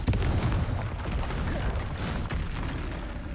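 A booming, rumbling blast from the Confringo spell in the Hogwarts Legacy video game, loud and sustained with overlapping bursts and low thuds, and no talking.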